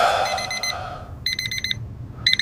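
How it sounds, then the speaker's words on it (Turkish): An alarm clock rings in short, rapid bursts of bright beeping, pausing and then starting again over a low background hum. "Alarm çaldı."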